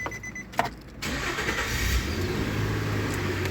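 A Nissan 4.0L engine cranks briefly and catches, then settles into a steady, fairly loud idle with a low rumble, recorded close by.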